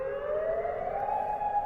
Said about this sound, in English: Air raid sirens across Oman.